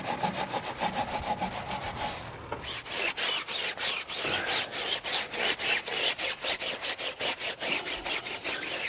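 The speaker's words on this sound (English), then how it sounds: "You a fan of the Detail factory tyre brush, Nick?" Steady back-and-forth scrubbing of a Detail Factory tyre brush on the tyre of a VW Transporter T5 Caravelle van, close and rhythmic with about four strokes per second, bristles rasping against rubber.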